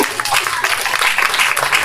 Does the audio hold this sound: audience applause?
yes